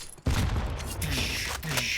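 Cannon fire in a first-person shooter map playtest, a loud booming blast that bursts in abruptly and sustains a dense roar with further heavy impacts, amid game action.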